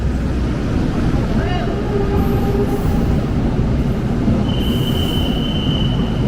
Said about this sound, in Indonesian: Oh, kereta api Batavia.